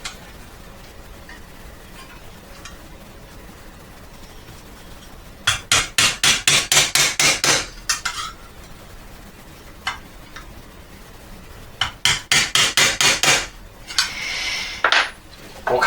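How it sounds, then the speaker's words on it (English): A hammer strikes a brass sheet being curved for a handmade cigarette case, landing in two quick bursts of sharp, ringing metallic blows, close and loud, with quiet pauses between the bursts. "Now I think we're going to have to hammer this first bit, get a curve on this first bit"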